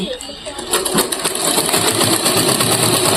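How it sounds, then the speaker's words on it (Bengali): A sewing machine runs steadily, stitching a cloth vegetable bag with a continuous rapid mechanical whir close by, while a voice talks over it. "এই পাশে কিন্তু ভালো করে সেলাই করতে লাগবে"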